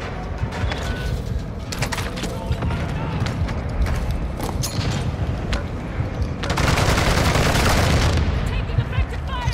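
A sentry gun in a video game fires rapid bursts of automatic gunfire amid other clattering game noise, building to a louder sustained volley near the end.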